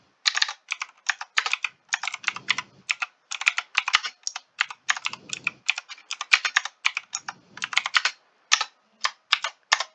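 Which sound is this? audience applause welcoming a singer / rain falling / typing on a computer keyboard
typing on a computer keyboard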